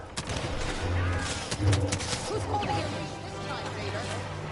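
Gunfire in the Star Wars Battlefront video game: a dense, continuous wash of blaster shots and battle noise with a few sharper cracks, steady and loud throughout, under game chatter.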